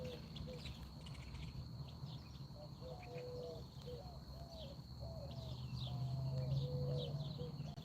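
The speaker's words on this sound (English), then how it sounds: "Can you guys hear the birds?" Several birds chirp and sing in short, repeated phrases over a steady insect drone and low background rumble, heard outdoors on a quiet walk with a highway not far away.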